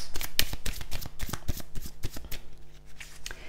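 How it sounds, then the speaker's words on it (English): Tarot or oracle cards being shuffled by hand, a quick run of crisp riffling flutters close up, fairly quiet and alone. "Just going to take a couple of Blunt Truth cards."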